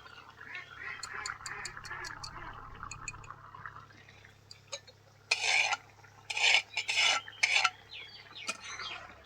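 A spoon stirring fried shrimp into a jackfruit and potato curry in a pot gives several short, scraping, wet bursts close by, after a stretch of fainter kitchen sounds and light clinks.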